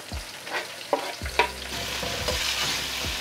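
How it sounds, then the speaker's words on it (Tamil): Onions, green chillies and curry leaves are sautéed in a pan for a Sri Lankan chicken curry, with a soft continuous sizzle and repeated clanking spatula stirs and scrapes at an irregular rhythm, close by. "எல்லாத்தையும் சேர்த்து நல்லா வதக்க விடுவோம்."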